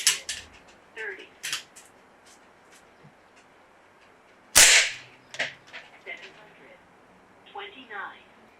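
An Umarex Notos PCP air rifle fires a single sharp, loud crack into a penetration box. Softer clicks and handling noises come before it, and speech follows the shot.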